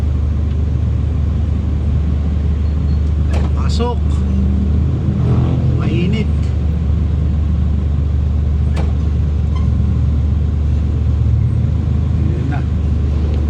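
Heavy, congested road traffic at the scene of a car and motorcycle accident: steady low engine rumble from idling vehicles with occasional revving and passing horn-like tones, while people talk nearby.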